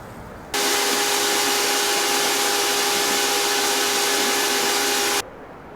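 A vacuum cleaner runs on full to pull dust, cobwebs and wood shavings out of a cabin's wooden interior, switching on abruptly and holding a loud, steady whining roar with a tonal hum for about five seconds before cutting off.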